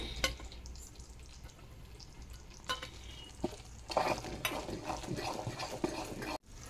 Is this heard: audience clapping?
no